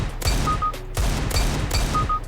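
Desert Eagle pistol shots in the game CS:GO, three sharp loud cracks spaced about a second apart, each followed by a short tail and a small beeping tone, with no talking.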